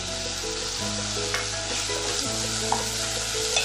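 Thinly sliced potatoes sauté in a pan, giving a continuous close sizzle with occasional light clicks of a spatula turning them.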